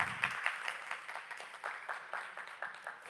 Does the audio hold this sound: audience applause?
yes